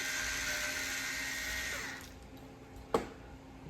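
An automatic pepper crusher grinds fresh pepper with a steady, close, whirring motor buzz that runs for about two seconds, then cuts off, followed by a single short clack.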